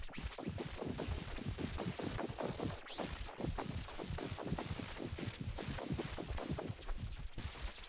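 A pulsing, sequenced synth atmosphere from the Tritium 2.0 Max for Live device, with rapid rhythmic throbs and hazy textured noise, steady and continuous, no voices.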